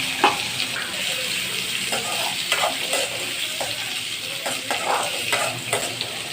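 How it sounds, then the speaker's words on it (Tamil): Onions sauté in hot oil in a pan as they are stirred, a loud steady sizzle with regular scraping strokes of the spoon throughout. "வெங்காயத்தை நான் பொன்னிறமாக வதக்கிக்கிறேன்."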